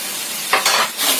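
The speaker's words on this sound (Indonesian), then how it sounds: "Kita aduk dulu" A vegetable stir-fry with carrots and oyster sauce is stirred in a hot pan, giving a steady sizzle with a few scraping strokes of the spatula, near and alone.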